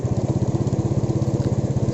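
A motorcycle engine starts and settles into a steady idle, its rapid even putter loud and close with no other sounds.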